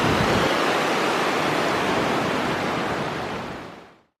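Mountain stream water rushes over rocks in a high alpine gorge near Val d'Isère, a loud, steady broadband roar that holds constant for about four seconds before cutting off abruptly.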